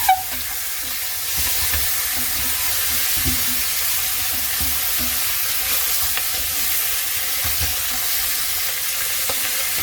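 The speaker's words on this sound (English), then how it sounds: "so now the meat's nicely browned off. You can still go a little bit more, but you don't want to burn it." Lamb browning in a pot with a little salt for waterblommetjiebredie; a steady, moderate sizzle and hiss with faint stirring clinks, no voices.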